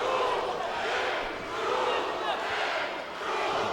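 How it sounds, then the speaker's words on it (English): Partisan arena crowd at an MMA fight at Foxwoods Resort Casino, a dense continuous roar that swells in waves, with a commentator's voice running over it. "the partisan crowd comes alive here at Foxwoods Resort Casino"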